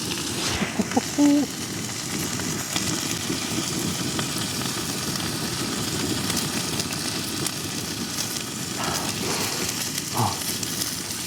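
A steak sizzles in a hot pan at a wild camp on a mountain, a steady close crackling hiss running throughout with a few brief clinks and knocks, no talk.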